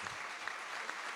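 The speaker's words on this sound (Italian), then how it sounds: "Io gli farei un applauso," Brief, steady applause from an audience in a hall for parents during a live event with Paolo Crepet, a soft wash of many hands clapping.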